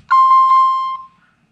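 A single clear electronic beep from a Honeywell 6160RF security keypad (Vista 20P system) rings for about a second while arming in instant mode, close and fairly loud, then silence.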